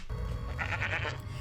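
A goat bleats in a short, nasal, wavering call over a steady low hum, close and fairly loud, lasting about a second with no talk.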